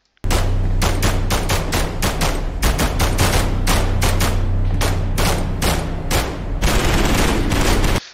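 Sustained automatic MP5 gunfire from the SCP: NTF game, loud, close bursts of rapid shots running several seconds with brief gaps between volleys.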